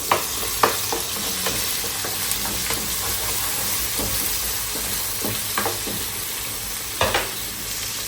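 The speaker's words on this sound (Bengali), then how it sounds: "এখানে আমি এই তেলের মধ্যে যখন পেঁয়াজ রসুন দিয়েছি" Onion and garlic frying in hot oil in a home kitchen, a steady broadband sizzle running throughout with occasional louder stirring clatters and pops; no talking.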